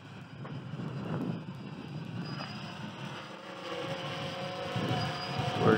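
WLToys V303 Seeker quadcopter flying outdoors at low height, a buzzing motor whine that rises and falls slightly and grows a little louder toward the end, with no talk.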